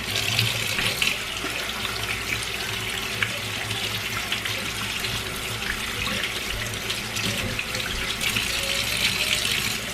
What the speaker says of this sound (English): I'm just gonna rinse it with some cold water.